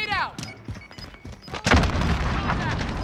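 A grenade explodes in Call of Duty Modern Warfare, a heavy close boom partway through followed by rumbling debris, with game sound effects and a voice talking earlier.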